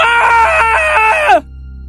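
A man screams hysterically, a loud sustained high-pitched cry of about 1.4 seconds that cuts off abruptly, heard alone.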